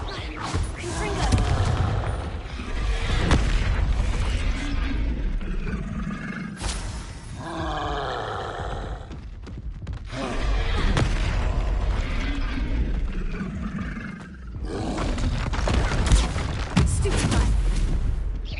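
Spell combat in a wizarding video game with Confringo blasting explosions, repeated loud booms and roaring crashes in several waves, dense and continuous with brief lulls between bursts.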